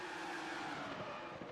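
Race cars in a Spanish Grand Prix racing video game roar past, a dense, steady engine drone with tire noise throughout and no talk over it.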